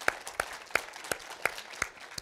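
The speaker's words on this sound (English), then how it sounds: "let's give him a round of applause." Slow, sparse hand claps at a campus chancellor's talk, six or seven distinct claps at a regular rhythm, fairly quiet and near, with little else in the background.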